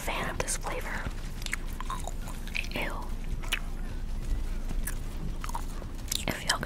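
Wintergreen-flavored chewing gum worked over in the mouth in close, moist chewing and biting sounds, with soft whispered speech drifting through at times.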